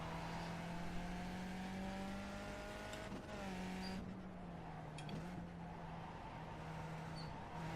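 Race car engine in the iRacing sim at Zandvoort, throttle feathered through a corner: a steady droning tone holds near constant, dipping slightly midway with a brief shift in pitch, continuous and fairly quiet, no voices.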